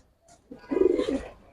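Fighter pigeons, silver and red khaki birds in a loft, give a short cooing call that swells into a rolling burst of low throaty coos, close and fairly loud.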